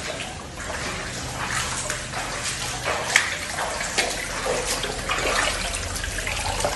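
Floodwater pours steadily into a house during heavy flooding and thunderstorms in the UAE, a continuous rushing, splashing wash with no break, close and fairly loud throughout.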